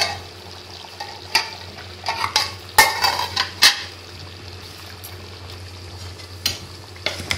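Lauki gosht, bottle gourd and meat curry, stirred in a cooking pot: a faint low simmer under a few scraping and clinking spoon strokes against the pot, close by, with no talking.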